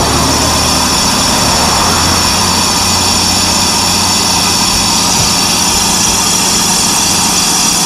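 A brake drum lathe resurfacing an electric trailer brake drum, a loud, steady, continuous machine whine and hum with a hissy cutting edge, unchanging throughout with no pauses.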